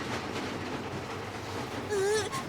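A cartoon train from Titipo rolls along its track with a steady rumbling clatter, and near the end a brighter, wavering whistle-like tone rises briefly above the running noise.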